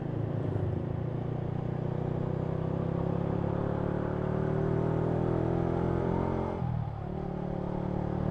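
A bus passes in busy road traffic, recorded from a motorcycle rider's open-visor helmet: a loud, continuous engine rumble and whir swells and holds, then dips briefly near the end.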